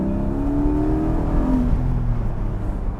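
A Porsche 718 GTS with its 4.0-litre motorsport-derived flat-six mounted behind the cabin revs hard and loud, the engine note climbing and then falling back as it comes off the throttle, steady and close throughout with no talking.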